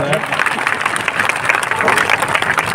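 Dense, steady crowd applause at a political rally in Achalpur, loud and continuous from start to finish, with a voice talking over the clapping.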